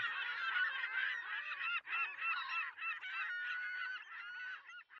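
Geese honking over the closing bars of a song, dense overlapping calls from a flock that sound fairly near and loud, continuous throughout with no talk.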